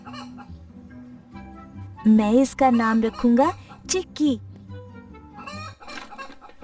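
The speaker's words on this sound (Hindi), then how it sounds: "वाह, कितनी प्यारी मुर्गी है।" A hen kept as a new family bird gives a few loud, clear clucks in the middle, over gentle background music, with someone speaking before and after.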